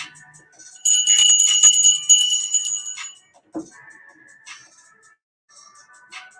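A cluster of bright ringing bells sounds loudly for about two seconds, then fades into quieter scattered chimes and a brief low thump, with no voices.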